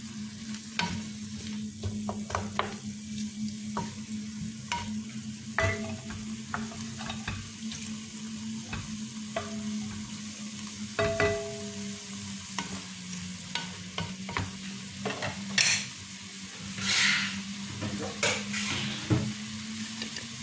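Chinese-style noodles stirred and mixed in a frying pan over steady sizzling, with repeated scraping and clinks of a utensil against the pan, close and moderately loud, no talking.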